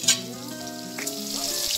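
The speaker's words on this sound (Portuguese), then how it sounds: "Agora vai a cebola, gente, ó. O bacon já tá fritinho." Onion goes into a pan of already-fried bacon, setting off a brief burst of close, crackling sizzle that settles into a steady fry with a faint stir, and nobody talks.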